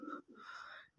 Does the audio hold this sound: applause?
no